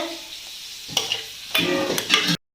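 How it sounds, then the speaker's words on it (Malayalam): Chili, turmeric and fenugreek powders fry in hot oil beside frying mackerel, with sharp spoon scrapes and a rising sizzle in two short bursts before the sound cuts off. "ഇത്രയും കൂടെ നമുക്ക് ഇതിൻ്റെ കൂടെ ഇട്ടൊന്ന് മൂപ്പിച്ചെടുക്കാം."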